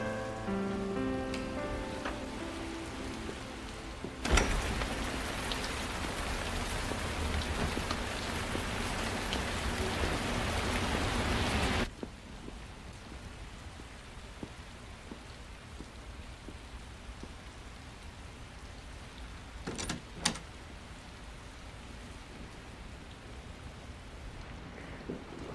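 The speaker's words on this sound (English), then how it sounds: "Starting to rain again, Martha." Rain falls in a steady heavy hiss that cuts off suddenly. Lighter dripping and faint patter follow, along with a couple of brief knocks.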